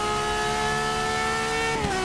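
A Ferrari FXX K in Forza Motorsport 6 holds a steady, high, loud engine whine, then the pitch drops abruptly near the end as it shifts gear, with no voices.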